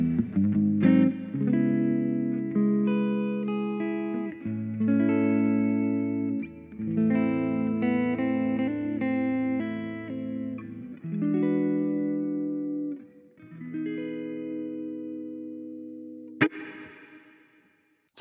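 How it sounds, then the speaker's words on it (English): Electric guitar played through a Boss Katana-Mini X amp with a big hall reverb, chords and single notes ringing out with long, spacious tails that fade between phrases, with no voices. "It's a very nice reverb."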